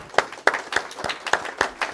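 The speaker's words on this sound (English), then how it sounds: "a big round of applause for them" Audience at a school poetry slam claps in a sparse, uneven patter of individual hand claps, moderately close and without cheering or voices.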